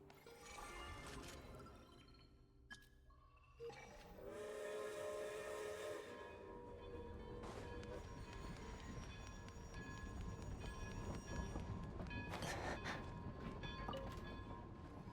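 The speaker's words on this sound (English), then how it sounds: "This is the train station." Train station ambience in the video game Genshin Impact: a steady mechanical rumble with hissing steam, a long whistle-like tone rising partway through, and a few clanks and bursts, heard alone throughout.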